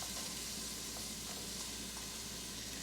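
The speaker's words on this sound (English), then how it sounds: "I am going to add a tablespoon of vegetable oil into my pan along with my onions." Onions sautéing in a tablespoon of vegetable oil in a pan give off a steady, soft, even sizzle that runs alone throughout without pause.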